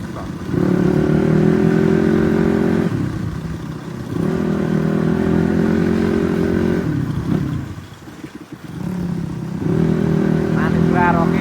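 A Honda CX250R motorcycle engine holds a steady, close, loud drone that twice drops off briefly and then climbs back, with a deeper dip near the end before it settles into a running hum again.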